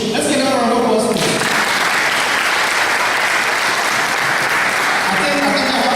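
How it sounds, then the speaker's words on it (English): A crowd breaks into sustained, loud applause right after someone speaks, the clapping continuing steadily before another voice starts at the end. "Ravi, Umesh, let's give them a round of applause"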